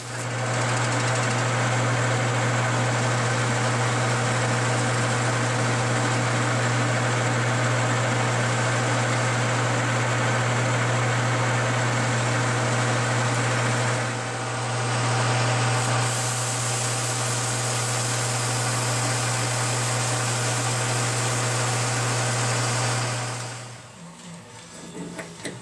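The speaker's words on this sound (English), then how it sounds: "let's put this in the lathe and see if we can get it down to a" A metal lathe runs steadily for about 24 seconds while a part for a gusset weld jig is turned down, giving a loud constant motor hum with a strong low drone and broad machining noise before cutting off near the end.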